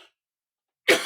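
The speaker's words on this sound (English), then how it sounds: "Excuse me while I cough." A single sharp cough bursts out close and loud at the very end, after a moment of silence.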